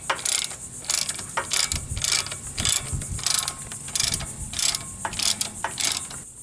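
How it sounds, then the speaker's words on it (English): Socket ratchet clicking in repeated bursts while loosening the caliper bolts on a 2004 Ford Explorer Sport Trac during a spindle replacement; close, crisp pawl clicks in several rhythmic runs with brief pauses between them. "So we'll just grab our socket and a ratchet, get those two bolts removed"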